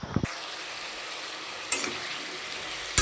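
Capsicum and potato curry cooking in a home kitchen pan, a steady soft sizzle running throughout, with a couple of sharp utensil clinks and a brief knock at the start.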